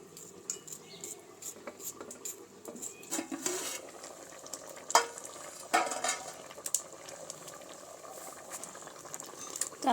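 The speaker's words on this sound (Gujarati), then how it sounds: "સીબું ઢાંકી અને સહેજ અમથું ખુલ્લું રાખશું અને આને સરસ રીતે બફાવા દઈશું" Dal, potatoes, peanuts and peas boil steadily in a covered pot with the lid left slightly open, giving a continuous bubbling simmer with occasional light clinks of metal.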